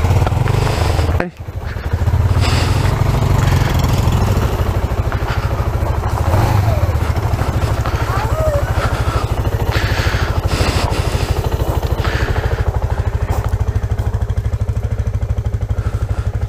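A small motorcycle engine runs steadily at close range with a constant buzzing putter, occasional clatter over the top and no pauses.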